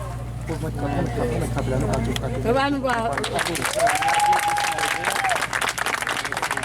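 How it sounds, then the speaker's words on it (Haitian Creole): Applause from a gathered audience at an event in Léogâne, Haiti, with clapping mixed under a voice talking, and a rising and falling whine-like tone partway through. "faire des applaudissements très chauds"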